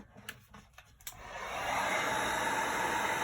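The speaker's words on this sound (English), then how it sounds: "So I'm going to apply a little more heat until I get what I'm looking for." Heat tool blowing hot air over a Milky Way tray. A few faint clicks come first, then a steady, even whir rises in and holds at moderate volume close by.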